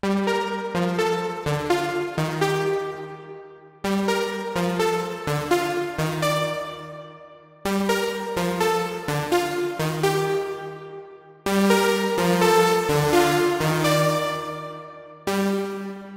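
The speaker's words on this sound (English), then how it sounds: "Next up is a bit of a more prominent lead, which is Saw inspired as well, and it's called Lead Moon." Saw-based lead preset named Lead Moon on the Diva software synth for deep and melodic house, playing a repeating phrase of bright, buzzy harmonic-rich notes over a low bass line, in four looped bars with clear attacks and no voices.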